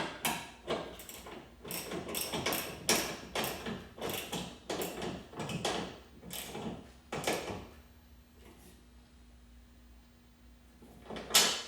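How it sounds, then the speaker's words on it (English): A crescent wrench and socket tighten the strut mount nuts on an E36 BMW M3, giving a run of quick rhythmic ratcheting clicks up close, then a pause with a low steady hum and a final clack. "I'm just gonna use a crescent wrench here and my socket to get these tightened up"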